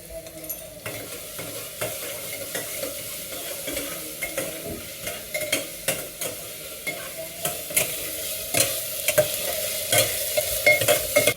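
Onions with ginger garlic paste fry in a pan for a South Indian salna, a constant close sizzle broken by repeated sharp scrapes and clacks of a spatula stirring, with no talk.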